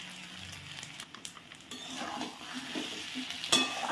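Yam pieces stirred through a sizzling cumin-and-spice paste in a wok, with steady frying hiss, scraping utensil strokes and a sharp clink near the end.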